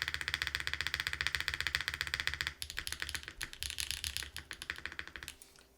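Steady fast typing on a Lumino75 mechanical 75% keyboard, dense rhythmic clacks running continuously close up, with a brief pause near the middle before the keystrokes resume.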